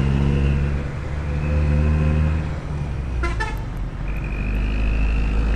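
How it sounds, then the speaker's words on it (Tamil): Heavy road traffic on a journey out of Jaffna: a constant close rumble of engines and revving vehicles, with a short burst of car horn toots near the middle. "ஐயோ இவ்வளோ ட்ராஃபிக்கா"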